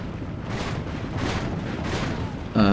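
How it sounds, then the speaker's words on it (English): A mortar fires during a Medieval II: Total War battle, the distant booms rising as broad rumbling swells over a dense battle din, ending in a sudden harsh burst. "here's a mortar shot that came, but it missed"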